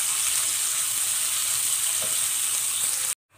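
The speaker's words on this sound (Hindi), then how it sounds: "यहाँ पे गाजर जो है उसकी 4 से 5 मिनट के लिए उसको फ्राई करेंगे" Finely chopped carrots fry in oil in a pan for white sauce pasta, giving a steady, close, loud sizzle with no voices, ending in an abrupt cut to silence.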